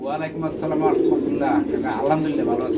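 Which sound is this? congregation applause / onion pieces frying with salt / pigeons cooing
pigeons cooing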